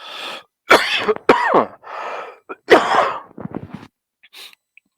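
A person with hay fever and a runny nose coughs and clears their throat repeatedly at close range, a series of harsh bursts with brief gasps between them.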